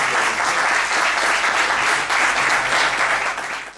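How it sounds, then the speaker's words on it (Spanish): An audience at a conference on mussel farming breaks into loud, continuous applause, dense clapping that holds steady and then begins to fade near the end. "Estupendo, pues un aplauso"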